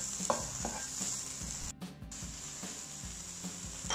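Shrimp and pork sausage stir-frying in a pan for instant noodles, a steady loud sizzle with repeated scraping stirs of the utensil, briefly interrupted by a short dropout near the middle.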